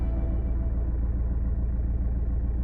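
Alfa Romeo Giulietta engine idling just after start-up, a steady low rumbling hum at even volume with no talk.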